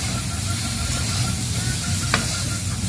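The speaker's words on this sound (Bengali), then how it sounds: "একটা তেজপাত দিলাম, লবণ, একটু নেড়ে দিচ্ছি।" Bay leaf and salt sizzle in hot oil in a pan as they are stirred, a loud continuous frying hiss with one short scrape partway through.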